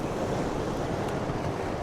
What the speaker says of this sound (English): the waves are crashing over it